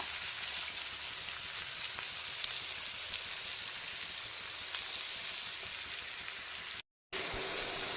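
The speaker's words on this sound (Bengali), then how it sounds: "তাহলে সবার প্রথমে এখন পেঁয়াজ কুচিটাকে হালকা বাদামি কালার করে ভেজে নিতে হবে" Chopped onions fry in a pan toward light brown for a spicy chicken potato curry, giving a steady, faint, even hiss that runs with no voices and cuts out briefly near the end.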